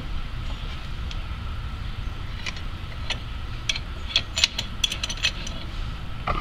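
A C-clamp presses the brake caliper piston back on a 2003 Jaguar X-Type, squeezing against an old brake pad. Close, light mechanical clicks and creaks come in sparse bursts, growing busier toward the end, over a steady low background hum.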